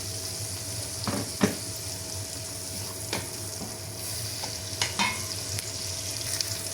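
Chopped shallots sautéing in melted butter, a continuous close sizzle broken by occasional sharp clicks and scrapes of a utensil stirring in the pan.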